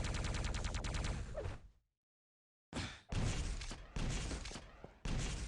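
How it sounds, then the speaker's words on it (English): Rocket jump explosions in Quake 3 DeFRaG, a loud run of rapid blasts, a short silence, then more sharp explosive bursts following one another in quick succession. "Going for that straight up rocket, you know, just for airtime as opposed to shooting off the wall"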